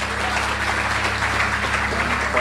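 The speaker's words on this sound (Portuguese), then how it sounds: "Aplauda ao Senhor." A church congregation applauds together, a steady, dense wash of clapping with a low hum underneath, filling the room evenly from start to finish.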